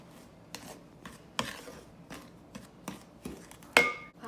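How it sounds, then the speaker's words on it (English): Flour mixture for orange cookie dough being stirred in a bowl, soft scraping strokes at a slow uneven rhythm, close and fairly quiet, ending with a brighter clink. "Now you stir until it's all combined"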